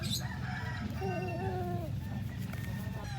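A Full Spark Gray gamefowl rooster crows once on a farm in Santo Tomas, Batangas, a clear drawn-out call against steady low background rumble, with other birds faintly audible.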